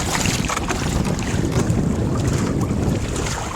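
Strong wind buffets the microphone aboard a proa sailing in roughly 9 knots of breeze, with rushing water along the hull, loud and continuous.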